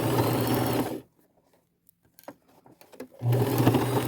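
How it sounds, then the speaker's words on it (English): Sewing machine stitching across a hole in a dress along the original seam line, a close, loud rapid chatter in two bursts separated by a quiet pause with small handling clicks. "follow that original stitch line, start back a little bit to make sure I get that entire hole, and then just sew across it"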